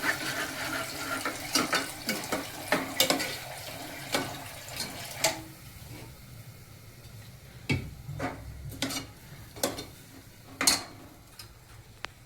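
Mixed dal is stirred in a pot with a spoon, producing irregular clinks and taps against the metal over a faint, steady background with no talking.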